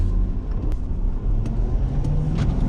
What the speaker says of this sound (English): Wheel spin. No traction. Too much torque in here.